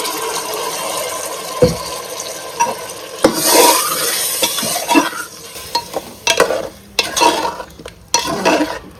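A spoon scrapes and stirs thick food in a pan, with a soft sizzle and intermittent metallic clinks, close up and without talk.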